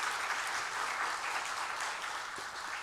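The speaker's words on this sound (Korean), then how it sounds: "여러분 뜨겁게 한번 박수해 주세요" Warm applause from a church congregation at an evening revival service after a solo song, steady clapping throughout at moderate volume that eases slightly toward the end.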